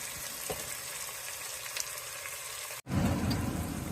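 Drumsticks and brinjal sautéing in hot oil for a tamarind curry with sundaikkai, giving a steady close sizzle throughout that grows louder and fuller after a brief cut near the end.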